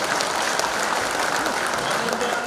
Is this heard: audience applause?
yes